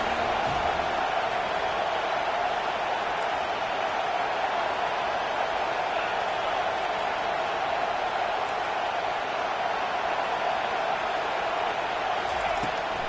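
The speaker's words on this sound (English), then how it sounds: "Decibels rising as the crowd gets behind this defense on 3rd down." Steady stadium crowd roar from a football video game rising on a third-down defensive stand, a dense continuous wash of cheering noise with no clear breaks.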